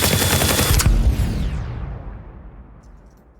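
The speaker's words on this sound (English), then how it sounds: "this is our 6160 version of a minigun" A designed minigun sound effect recorded with an sE6160 microphone: a loud, dense, rapid-fire burst that cuts off abruptly after about a second and leaves a long, fading rumbling tail.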